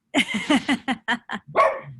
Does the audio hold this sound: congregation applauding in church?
no